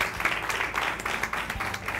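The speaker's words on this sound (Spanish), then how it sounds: "¡Pueden aplaudir!" Students clap together in a classroom cooking lesson, a steady, dense patter of applause that carries on unbroken for a couple of seconds at moderate loudness.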